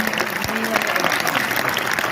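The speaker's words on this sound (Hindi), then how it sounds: "जब पूरा सदन भरा हुआ था तब भी तालियों की गड़गड़ाहट इतनी ही थी और अभी भी इतनी" Dense, steady applause from an audience at a Hindi comic poetry gathering (hasya kavi sammelan) in Hisar, continuous clapping filling the whole stretch without a break.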